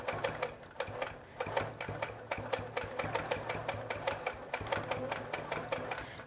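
A home sewing machine fitted with a hopping foot runs steadily while free-motion quilting small pebble shapes, a close and fairly quiet fast rhythmic stitching chatter that carries on unbroken.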